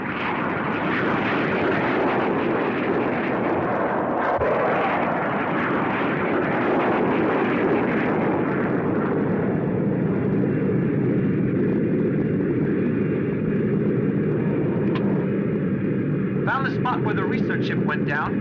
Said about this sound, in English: I will have to order up the observation planes